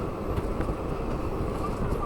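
The Pinakini SF Express pulling out of Sullurupeta station, a steady broadband rumble of rolling wheels and rushing wind heard from on board, continuous and moderately loud.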